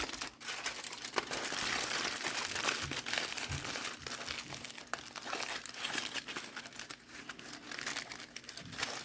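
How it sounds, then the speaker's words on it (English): A sheet of aluminum foil crinkled and folded by hand into a cone, steady close crackling and crumpling throughout with no talk. "I'm going to have to use some aluminum foil because I ran out of the metal cones"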